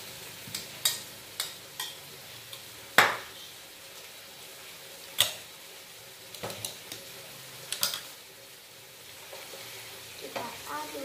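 Stirring macaroni in a pot during mac and cheese cooking: scattered clinks and scrapes of a utensil against the pot, with a few sharper knocks, over a faint sizzling background.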